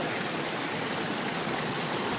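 A river in the countryside flows steadily, a constant broadband rush of running water close by with no talk over it.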